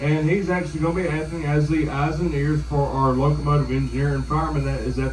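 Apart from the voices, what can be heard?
None of the usual background noises is heard.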